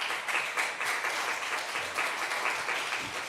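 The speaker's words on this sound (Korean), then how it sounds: "예배팀장님 나오실 때 큰 박수 부탁드립니다." Young adults at a Sunday church worship service give a worship team leader a warm round of applause, dense continuous clapping filling the room at moderate volume.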